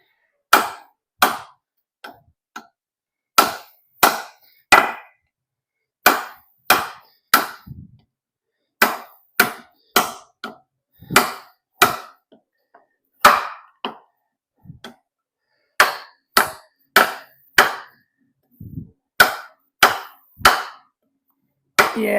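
A Yewu drop point knife with a 14c28n steel blade chops into a small, hard log, giving a long series of sharp, woody impacts in quick irregular bursts with short pauses, close and loud.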